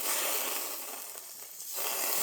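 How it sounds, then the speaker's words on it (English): Steak sizzles loudly as it is flipped in a hot pan while camping in the woods, a continuous bright hiss that dips slightly in the middle before swelling again. "Alright, let's flip the steak. Here comes the sizzle."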